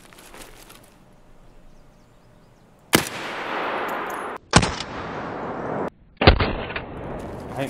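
Gunfire in Escape from Tarkov: three sharp, loud shots spaced a second or more apart, each followed by a broad, decaying rumble of echo, over a quiet ambient bed.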